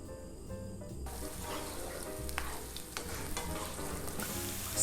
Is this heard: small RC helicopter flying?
no